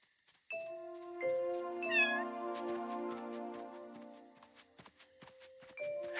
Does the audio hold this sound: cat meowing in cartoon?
yes